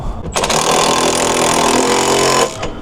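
A power tool on a 17 mm swivel socket rips loudly for about two seconds, tightening the sway bar nuts on a 2022 Subaru WRX. It is a close, continuous burst that cuts off abruptly.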